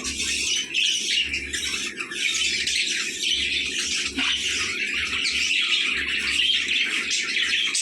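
Small exotic pet parrots kept at home fill the air with dense, continuous chirping, whistling and occasional squawks, several birds calling at once from close by.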